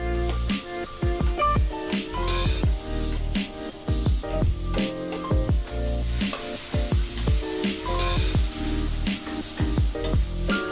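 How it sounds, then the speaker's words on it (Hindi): Grated tomatoes hit a hot pan and set off a steady, bright sizzle that holds throughout, close and fairly loud, with a rhythmic tonal backdrop and no talking. "अब मैं टमाटर डालूंगी जो कद्दूकस करके रखे हुए हैं।"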